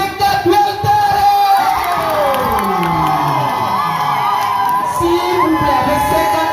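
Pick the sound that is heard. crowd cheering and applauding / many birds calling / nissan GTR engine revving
crowd cheering and applauding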